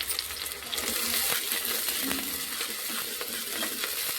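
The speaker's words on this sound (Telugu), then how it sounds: "కొద్దిగా కరివేపాకు, కొంచెం ఎర్రగా వేయించుకోవాలండి." Curry leaves frying in a pan for a Telangana-style dish give a steady, close crackle and sizzle with scattered sharp pops and light stirring scrapes, no talking over it.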